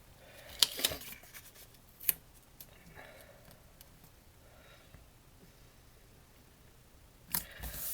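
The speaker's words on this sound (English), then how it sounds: "And then I'm just going to snip off that bit of Designer Series paper at the end." Scissors snip through Designer Series paper on a card-making table, with a couple of sharp clipped cuts near the start and another near the end, quiet handling noise between.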